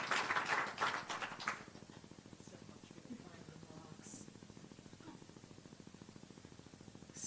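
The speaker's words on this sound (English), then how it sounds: "So let's give her a little clap" Audience clapping for a speaker at an energy storage event, a short burst of applause at the start that quickly fades, leaving a quiet room with a faint regular ticking.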